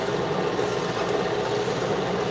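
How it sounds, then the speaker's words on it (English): A sanding disc grinds a small nub off a turned wood piece, a steady continuous rasping whir holding even and close throughout. "The sanding disc makes quick work of it"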